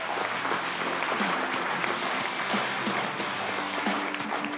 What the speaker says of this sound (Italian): Allora un applauso alla pallanuoto.